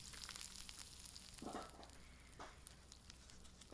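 An egg frying in a very hot pan, a faint continuous sizzle with brief crackling spurts, heard alone at low volume.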